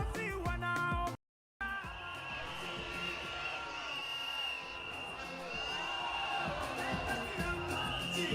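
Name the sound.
crowd applauding and cheering at a political rally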